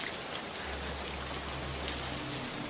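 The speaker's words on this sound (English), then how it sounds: "Rain poured out of the sky in a deluge." Heavy rain pouring down in a deluge, a dense, even hiss of drops close by and continuous, alone with no voices.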